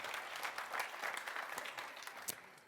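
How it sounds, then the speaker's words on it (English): A conference audience at a panel on digital sovereignty claps in a dense, continuous round of applause, with a few sharper individual claps standing out. "Big applause."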